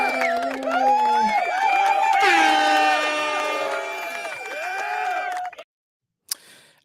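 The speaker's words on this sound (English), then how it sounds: "Let's do another round of applause." A studio audience at a live talk session responds with loud cheering and crowd noise over music-like tones, building then fading, before a brief burst of noise after a pause.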